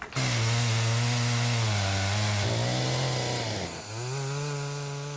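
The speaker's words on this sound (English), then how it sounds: "the woods have come alive for the first ever regional chainsaw competition" A chainsaw roars loudly and close at a regional woods chainsaw competition in Conecuh County while felling a tree, the engine held at high revs with a brief dip near the end, and no voices.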